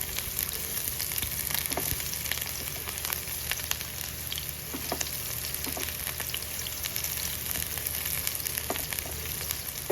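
Chopped onion and garlic fry in a hot pan for a chicken dish, a dense constant crackling sizzle with scattered pops and light stirring ticks, close and unbroken throughout.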